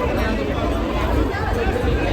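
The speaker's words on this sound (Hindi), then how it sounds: "ओ भाई, भीड़ देखो" Steady, dense crowd bustle at Prem Mandir temple in Vrindavan, a continuous babble of many voices and movement, loud and close with no pauses.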